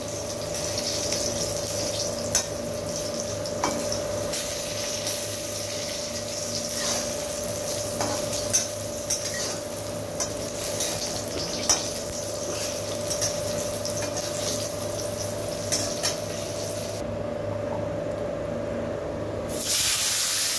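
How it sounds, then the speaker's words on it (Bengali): Continuous sizzling hiss of food frying in hot oil, steady throughout with occasional small pops and crackles, no voices. "বরবটিটা ভেজে নিচ্ছি।"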